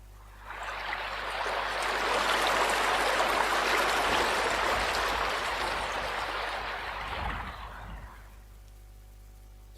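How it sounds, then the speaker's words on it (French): A river in a Noddy (Oui-Oui) cartoon flows in a steady rushing wash that swells in, holds for several seconds and fades out, with no talking over it. "Le bruit de la rivière"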